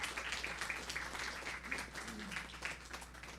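An audience applauds to welcome a speaker at a sociology and anthropology student research conference, with faint, distant, steady clapping that sounds thin and roomy and has no voices over it.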